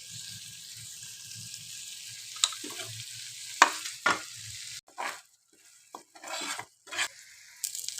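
Mutton spleen pepper fry sizzles in a pan while being stirred, a faint steady crackle broken by scraping strokes, then short bursts of louder sizzle with quiet gaps between them.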